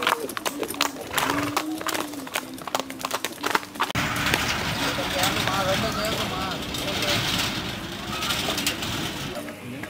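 Horses walk in a cabalgata horseback parade at an anniversary celebration in Tamaulipas, with steady hoof clip-clops under loud crowd noise and someone talking over them.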